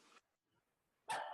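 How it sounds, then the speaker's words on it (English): Dogs bark at a home during a live online meeting: one short burst at the start, a pause, then a louder, sharper burst of barking close by, with no talk over it. "The dogs are barking."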